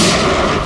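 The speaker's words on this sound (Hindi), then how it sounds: "मुझे कवर करो और फायरिंग करते रहना" Heavy gunfire booms in a dense, continuous burst, loud and close, filling the short moment with rumbling blasts.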